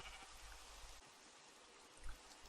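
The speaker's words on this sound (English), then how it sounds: "Ah, we have found some sheep." Sheep bleating in a Minecraft-style survival video game, heard as a short bleat or two over steady low background water and ambient noise, with no talk.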